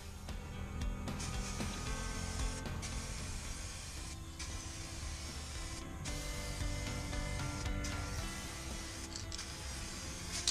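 Spray paint is applied as a light final coat to a caravan wheel being refurbished, a steady broadband hiss running throughout with brief pauses between passes.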